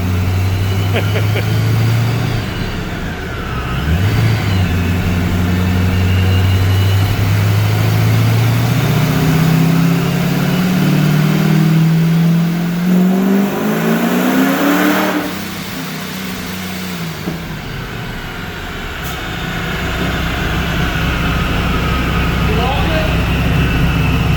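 A Fox body Mustang engine on a dyno roars loudly, its pitch sweeping upward through a long sustained rev before dropping back to a lower drone, with voices briefly audible.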